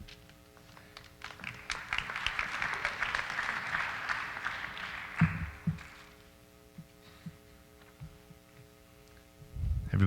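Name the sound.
audience clapping at an awards night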